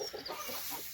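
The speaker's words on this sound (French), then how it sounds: "désolé pour les bruits parasites, hein, il y a des poules." Hens cluck in short soft bursts close by on a small outdoor plot in February, a brief run of bird chatter with no voices.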